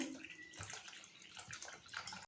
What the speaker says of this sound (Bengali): এখানটা আমি ঠান্ডা জল অল্প পরিমাণে দিচ্ছি